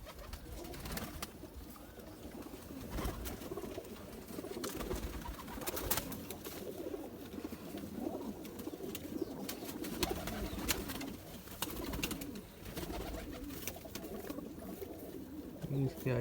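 Zeera pigeons, a racing-pigeon breed, coo softly and steadily beneath a continuous murmur of handling and background noise, with no clear pause in the low rumbling calls.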